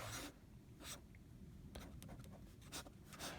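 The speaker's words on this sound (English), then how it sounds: "which happens when you press down really, really hard with a pen" A pen presses hard on non-absorbent paper in short scratchy strokes, several quick scrapes and taps close up and quiet, with no voices.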